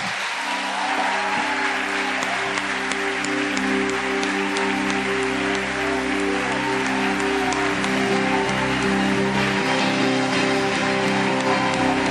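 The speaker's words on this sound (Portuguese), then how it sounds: "Podemos dar um forte aplauso a Jesus nessa noite" Congregation in a church applauding, a steady dense wash of clapping lasting throughout, with sustained organ or keyboard tones running underneath.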